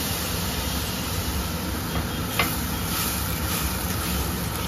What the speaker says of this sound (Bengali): ফ্রাই করছি, হালকা ফ্রাই।